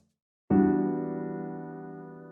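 A single sustained minor ninth chord on a Labs tape piano, struck once after a brief silence and left ringing, with a warm, slowly fading tone and no other sounds.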